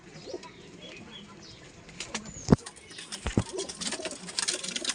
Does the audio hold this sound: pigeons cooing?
yes